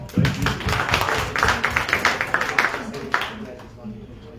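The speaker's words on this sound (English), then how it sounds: "give him another round of applause" A room audience gives another round of applause for Councilman Casey Thomas at a political gathering, a loose burst of individual claps, close and uneven, that thins out and fades after a few seconds.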